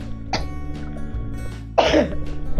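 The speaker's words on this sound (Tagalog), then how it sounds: "Medyo inuubo po ako" Two short coughs, one brief and one louder and harsher about a second later, close to the listener with quiet room noise between them.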